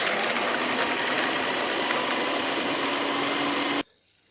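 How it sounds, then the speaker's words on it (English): A blender purees chopped tomatoes with cashew nuts, a loud, steady motor whir held for several seconds before it cuts off abruptly. "I'm just going to blitz my chopped tomatoes with the cashew nuts"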